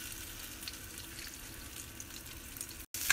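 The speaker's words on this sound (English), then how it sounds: "I've got 2 tablespoons of avocado oil in a skillet over high heat, and you could use olive oil, and I'm just going to sear them on both sides" Crab cakes searing in avocado oil in a skillet over high heat give a steady, even sizzle and crackle throughout, close and moderately loud, broken only by a brief dropout near the end.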